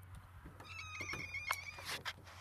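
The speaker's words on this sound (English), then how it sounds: "Oh, my cat!" A cat meows a few times close by, short tonal cries over a steady low hum in an indoor room.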